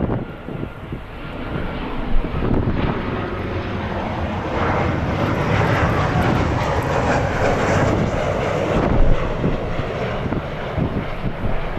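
Airliner at LAX taxiing toward runway 24 left, a loud sustained jet engine roar heard from nearby, steady throughout without talk.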